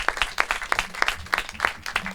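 A concert audience claps in a quick burst of applause, sharp irregular claps close by and fairly loud for a couple of seconds.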